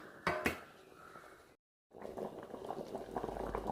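A sardine and mango curry bubbles in a pot with a faint, steady simmering burble. A couple of utensil clinks sound early on, and the sound cuts out for a brief moment.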